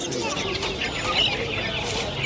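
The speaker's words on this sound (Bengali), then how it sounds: "এখানে বিভিন্ন জাতের ফেন্সি মুরগি কালেকশন আছে" Several fancy-breed chickens cluck and chatter nearby at a bird market in Mirpur, amid a busy background of murmuring noise, their calls overlapping irregularly.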